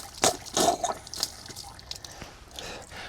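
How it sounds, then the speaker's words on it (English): Water sputters and spits from household pipes full of trapped air, irregular splashy bursts and drips of varying loudness, close by, with brief quieter gaps between spurts. "look what our water is doing here. There's so much air inside of the pipes."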